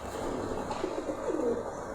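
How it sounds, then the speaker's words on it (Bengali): A female Silka pigeon coos softly nearby, a few low rolling notes over a steady background hum. "এটা একটা মাদি একটা কবুতর।"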